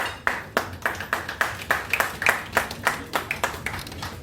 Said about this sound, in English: I think you just clapped for yourself